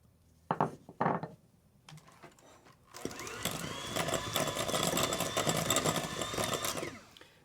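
An electric mixer whirs steadily in a bowl, creaming butter for sourdough banana bread, running loud and continuous for about four seconds after a few short knocks and clatters at the start.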